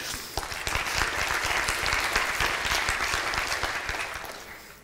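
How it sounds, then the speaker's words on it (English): A conference audience at a technical talk about an Arduino and Django project applauds, sharp individual claps swelling into a fuller round, then fading toward the end, heard without speech. "So also another round of applause for Jacopo"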